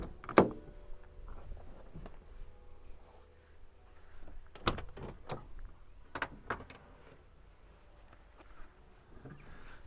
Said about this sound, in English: I'm going to open the back doors up